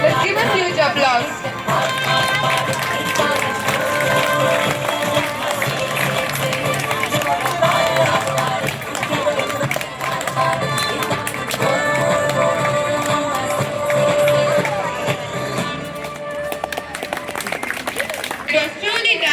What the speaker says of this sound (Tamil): Let's give a huge applause.